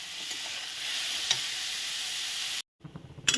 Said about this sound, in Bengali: এগুলো দিয়ে আমি ভালো করে ভেজে নেব।